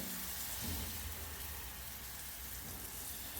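Pooda batter sizzles on a hot iron griddle over a medium gas flame, giving a steady, dense hiss of frying that carries on without a break.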